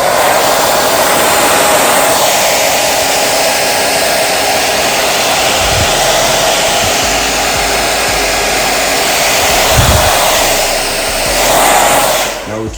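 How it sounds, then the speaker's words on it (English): A blow dryer roars steadily and loudly throughout in a barbershop, with a few soft bumps and a brief dip near the end. "So now I take my comb and my blow dryer again."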